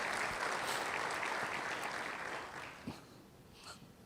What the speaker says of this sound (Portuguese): Dá um aplauso para ele também.